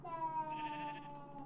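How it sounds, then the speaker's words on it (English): Sheep in Minecraft, a single short, wavering bleat heard fairly clearly over a quiet background, with no talking. "And then we can make a lot of sheep."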